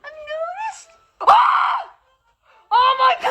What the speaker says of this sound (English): This is just them screaming.